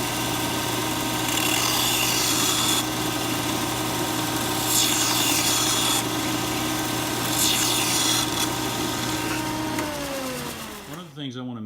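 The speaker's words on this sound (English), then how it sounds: "I want to use my belt sander to dress the end" A belt sander dresses the end of a metal bracket piece for a dune buggy, with a continuous motor drone and repeated grinding swells as the metal is pressed to the belt, then the motor winds down to a stop.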